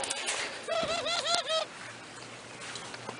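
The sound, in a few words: ringneck dove making noise in a loft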